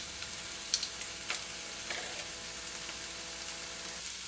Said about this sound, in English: So I'll let these cook for about a couple minutes. Keep tossing them around. Add a bit of garlic